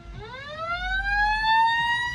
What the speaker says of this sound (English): we have a ambulance